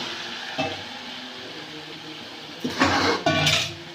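Chicken pieces tipped into hot spiced oil for a village-style chicken and potato curry, sizzling steadily with bursts of louder frying and stirring scrapes near the end.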